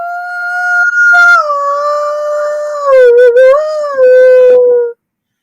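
A person imitates a coyote howl with a loud, sustained, wavering tone close up that rises and falls, breaks into quick yips partway, then slides down and cuts off sharply; no other talking.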